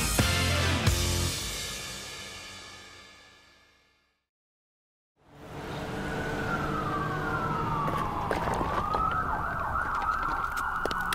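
A loud wailing siren with music from a children's song, a brief drop to silence, then a siren rising and falling as a rescue truck approaches.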